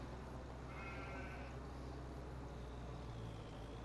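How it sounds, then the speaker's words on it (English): A sheep bleats in a Farming Simulator 25 farmyard, one brief bleat heard faintly over a steady engine-like background drone. "We got some sheep over there"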